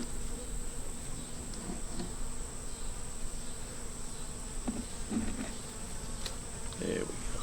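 Honey bees buzz continuously around an open deep nuc hive with four frames, a close, dense droning hum, while a person speaks quietly now and then.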